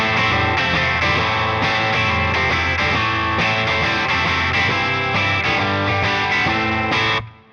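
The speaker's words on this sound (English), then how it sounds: "let's start off with the Hiwatt by itself with no pedals whatsoever" Electric guitar played straight through a Hiwatt amplifier with no pedals, ringing loud and full with steady strummed chords for about seven seconds before cutting off abruptly.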